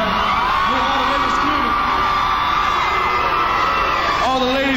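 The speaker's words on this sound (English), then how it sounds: "All the ladies are screaming tonight." Concert crowd at a 1991 New Year's Eve show in San Francisco, loud and continuous screaming, whooping and cheering that fills the whole stretch without a break.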